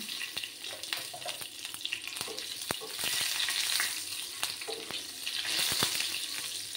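Black cumin seeds and three slit green chillies frying in hot oil, a steady close sizzle with crackling pops and occasional stirring clicks throughout.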